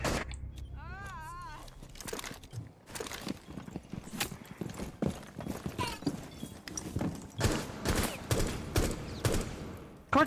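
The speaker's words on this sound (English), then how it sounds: "He's still trying to shoot at you." Gunfire in Rainbow Six Siege: scattered sharp shots and short rattling bursts, fairly faint and irregular, mixed with other game noises and a voice talking.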